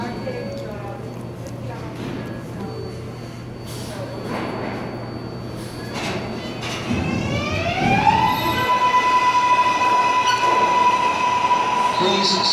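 A New York subway train at Franklin Ave station rumbles steadily on the platform, with screeching, rising wheel and motor tones building as it moves, while a loud recorded announcement plays over the noise.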